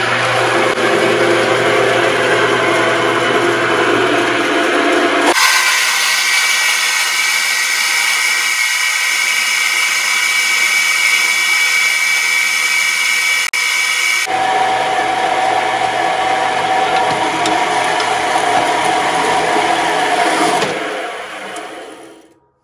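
A power tool, called Miss Bertha, cuts through the ends of the copper coils from a 5 hp generator, a loud steady whine that shifts pitch partway through, then resumes and winds down at the end, with no talking.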